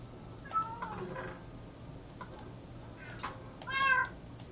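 A cat meows several times inside the Minecraft video game, with thin, rising-and-falling calls spread across the clip and the loudest and longest one near the end.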